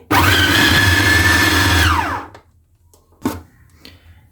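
Electric chopper grinding raw keema with salt and cumin, a loud steady whir for about two seconds that winds down, followed by a brief clatter and a faint knock.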